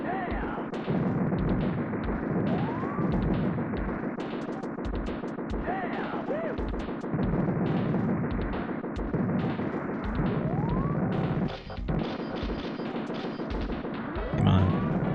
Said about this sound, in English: It's so much easier when you have the rocket launcher